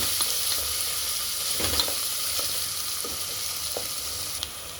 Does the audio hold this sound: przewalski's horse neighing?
no